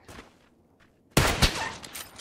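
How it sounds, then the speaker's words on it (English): Video game gunfire: a loud, close burst of rapid shots erupts partway through, following a quieter stretch with faint shuffling, and keeps rattling densely to the end. "they're still shooting at me"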